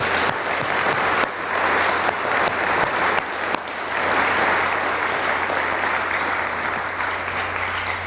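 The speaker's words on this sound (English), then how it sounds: "So can we give them a round of applause?" An audience at a Montana Heritage Center press conference breaks into loud, sustained applause, dense clapping that holds steady for the whole stretch with no talk over it.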